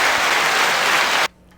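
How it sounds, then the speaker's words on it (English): A small group claps loudly and steadily for over a second, a dense burst of applause that cuts off abruptly into near silence. "That was some good claps."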